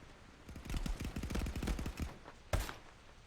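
Rapid bursts of gunfire in the VR shooter game Contractors VR during a competitive match, a rattling string of shots over about two seconds, then a single sharper, louder crack near the end, no talking.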